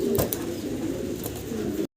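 Pigeons at a farm coo softly and steadily close by in the rain, a low continuous murmur of calls with no talk over it.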